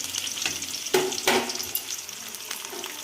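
Onions, curry leaves, urad dal and mustard seeds fry in a pan, a close, crackling sizzle with two sharper bursts early on as ingredients hit the oil, then a steadier hiss, no talking.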